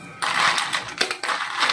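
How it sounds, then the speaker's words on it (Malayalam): Two or three ice pieces dropped into a jar for a summer drink, a few sharp clattering knocks against the container with a brief rattle, close and fairly quiet, no speech. "2-3 പീസ് ഐസ്."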